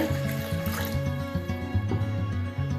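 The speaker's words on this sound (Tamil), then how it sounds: "அடிஷ்னலாக கொஞ்சம் தண்ணி விட்டு" Water is poured into an eggplant rasam as it cooks, a continuous close gurgling trickle with bubbling, watery tones throughout.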